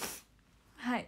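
A sharp, breathy sneeze bursts out at the start, followed by a brief pause and then a short spoken word.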